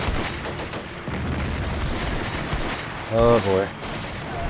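Artillery fire in the video game Combat Mission: Beyond Overlord is a steady, dense rumble of distant shots and blasts, and someone speaks briefly partway through.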